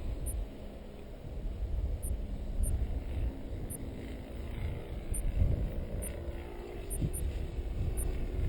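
Radio-controlled model airplane coming in to land on a gusty, windy day at a model flying club, a steady distant engine drone mixed with heavy wind rumble, with faint repeated beeps above it.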